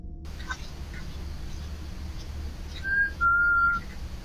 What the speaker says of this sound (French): On peut entendre un sifflement bien distinct.